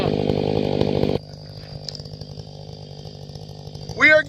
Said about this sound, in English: We are getting such great tests with this chainsaw.